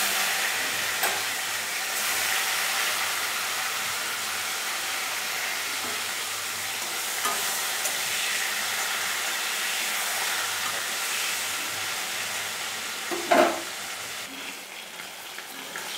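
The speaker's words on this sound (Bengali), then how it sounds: "এবারে প্রথমে আমি মাথাগুলোকে ভেজে নেব।" Hilsa fish heads frying in hot oil in a wok, a steady broadband sizzle that holds evenly throughout, with a brief clatter near the end.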